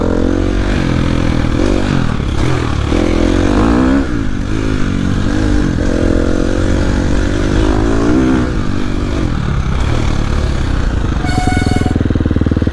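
A KTM SXF 350 four-stroke motocross bike riding off on a dirt track, its engine loud and close with a continuous revving drone that rises and falls through gear changes, and a brief high tone near the end.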